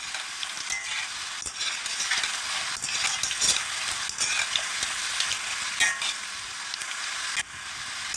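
Laddu batter fries in hot oil for a Krishna Jayanthi sweet, a bright continuous sizzle punctuated by regular stirring clinks and scrapes of a metal ladle, close by.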